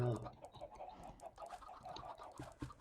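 Soft, repeated clucking of chickens in a video game plays quietly in the background, with faint clicks and murmurs mixed in.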